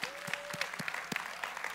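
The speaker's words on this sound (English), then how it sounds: "Come on, clap louder if you're a believer." A church congregation claps during a worship service, a crowd of quick, uneven hand claps that carry on throughout, with a brief voice rising above them.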